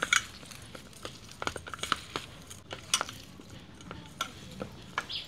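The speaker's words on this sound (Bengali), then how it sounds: "এইগুলো সব দিয়ে ভালো করে ছানাটাকে চকটে নেব।" Chhena cheese being kneaded and mashed with hing, sugar and salt by hand in a bowl, soft squishing and scattered light clinks against the dish in an irregular rhythm, close and fairly quiet.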